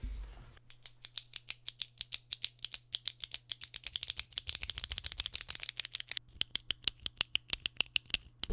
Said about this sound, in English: literally sampled the sound of a pen clicking